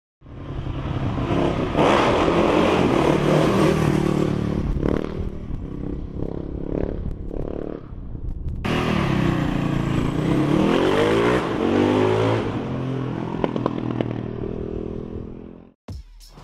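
A Husaberg FS 650 motorcycle engine revs hard and accelerates loudly, rising in pitch, dropping briefly, then surging again before cutting off abruptly.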